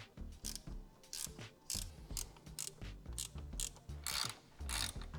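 A ratchet clicks in quick bursts while loosening the supercharger blower studs on an OBS truck, with short metallic ratcheting strokes and brief pauses between them, close up and fairly quiet.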